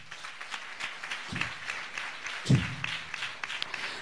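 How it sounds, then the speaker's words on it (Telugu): A church congregation at a Telugu Sunday service claps together, a steady patter of many hands held at moderate distance through the short stretch, with one louder thump partway in. "చప్పట్లు కొడదాం."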